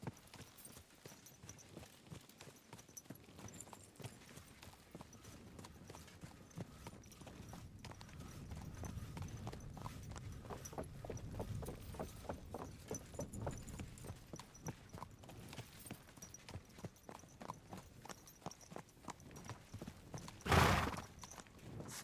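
A mare from Kingdom Come: Deliverance II clip-clops along at a steady walk, hooves beating in a soft even rhythm, before a single sharp neigh breaks out near the end; no one speaks.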